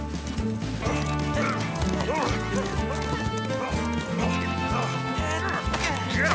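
Hooves of Zorro's horse Tornado gallop in a quick rhythm under a loud orchestral score, the beats partly buried in the music, with a horse's whinny in the mix.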